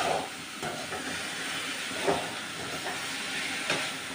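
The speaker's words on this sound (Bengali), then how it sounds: "এদিকে আলু ঝুড়ি ভাজা হচ্ছে" Shredded potatoes frying for jhuri bhaja in hot oil in a home kitchen, giving a continuous soft sizzle and hiss with a few brief crackling swells, and no one speaking.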